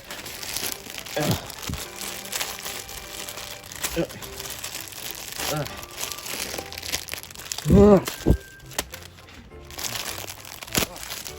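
Crinkly plastic packaging of a Thomas & Friends plush toy crinkles and rustles in bursts up close, opened without scissors, with tearing and crunching noises and a voice speaking at points.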